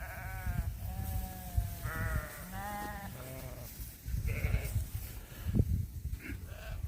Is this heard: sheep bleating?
yes